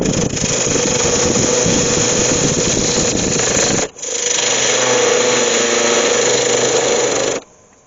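A wood lathe spins a resin and root ball bowl as a tool gently cuts away its foot, giving a loud, steady whirring rasp that breaks off briefly midway and then resumes before stopping near the end.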